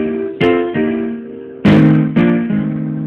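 Blues piano right-hand riff: a handful of sustained chords and struck notes ring out one after another, each attack decaying into the next, clear and close with no talking.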